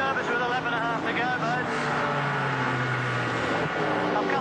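Holden VL Commodore race car at Bathurst 1990, engine droning at reduced revs with a steady rising and falling tone, under talk from a commentator.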